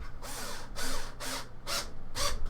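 A power drill running in bursts while a gaming PC is assembled: five whirring pulses of the motor in quick succession, each starting and stopping abruptly, close and moderately loud.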